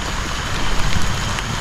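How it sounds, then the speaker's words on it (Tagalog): Rain falls steadily at night in a rural Philippine setting, a dense, even hiss of drops on surfaces with slight swells in intensity, no voices over it. "Ulan bro."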